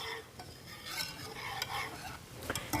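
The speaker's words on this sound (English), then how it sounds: "I'm gonna whisk that in" Instant cream of wheat cereal being whisked into milk in a pot, producing a quiet, continuous swishing and scraping of the whisk over a low hum, close and brief.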